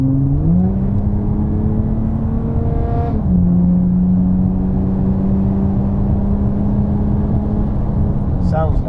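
An Audi A5 3.0 TDI diesel engine while driving, a loud continuous cabin drone whose pitch rises and shifts through gear changes, with a brief high whine near the end.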